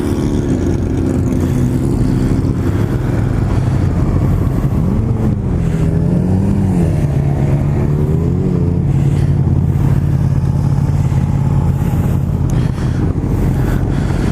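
A group of motorcycles riding together, with a continuous engine drone whose pitch rises and falls as the riders accelerate and ease off, over heavy wind rush at the microphone.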